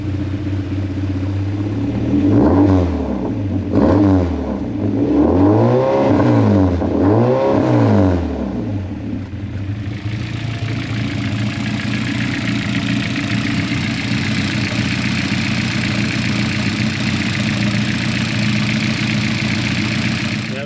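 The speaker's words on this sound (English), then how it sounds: "Let's give it a couple revs, get some oil pressure." After an oil leak repair, a car engine gets several rising-and-falling revs in quick succession, then settles into a steady, rumbling idle that runs on alone and close by.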